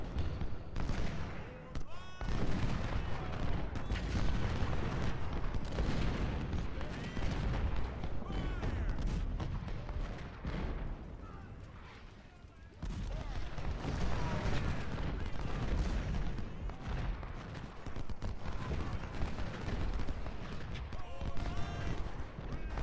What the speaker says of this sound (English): Artillery seems to be doing a pretty good job at its job.